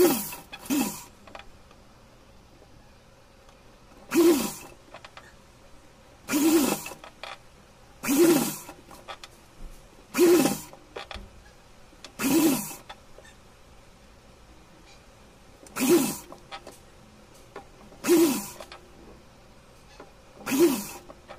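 Sewing machine stitching piping along the edge of a doll frock, running in short, evenly spaced bursts of rapid mechanical whirring separated by quiet pauses, close and clear.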